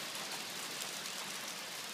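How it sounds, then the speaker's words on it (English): Tiny BB-sized hail falls on a Toyota FJ40 truck, making a faint, steady hiss of countless small pellets with no talk. "Just little tiny, like BB-sized pieces of it. But it's definitely hail"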